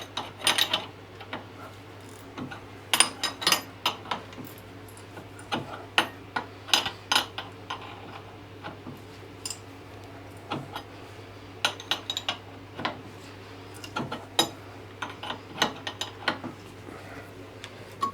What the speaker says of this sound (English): We've got a 5/16 die nut here, a good one, so hopefully that'll put some nice threads on for us.